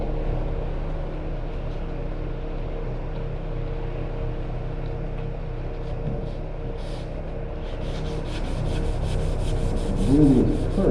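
A soft sanding pad rubs over the repaired sheet-metal quarter panel of a Chevrolet Sonic in a steady, continuous scuffing hiss. The sanding is close and grows slightly louder near the end.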